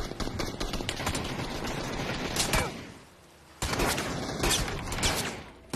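Video game gunfire rattles in rapid, dense bursts, loud and close. A short pause comes before the shooting resumes.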